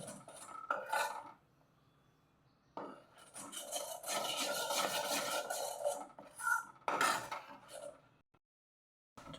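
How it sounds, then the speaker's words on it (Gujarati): Flour roasting in a pan is stirred and scraped with a utensil, producing dry, raspy rubbing strokes in a few bursts of a couple of seconds each, separated by quiet pauses, close and fairly soft. "લોટ શેકી લેવાનો છે બહુ બ્રાઉન નથી કરી નાખવાનો લાઇટ બ્રાઉન કરવાનો છે"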